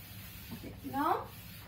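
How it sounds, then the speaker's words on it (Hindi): A teacher rubs a classroom board clean with a brief burst of scraping friction, fairly quiet, with faint voice-like sound around it. "इसको मैं अभी रब कर रही हूँ"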